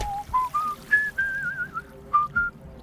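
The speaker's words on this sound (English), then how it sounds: "I'm just gonna whistle to myself for a bit now" A character in the High on Life video game whistles a meandering tune to himself while fishing, a string of clear rising and falling notes, close and alone over a faint ambient hum.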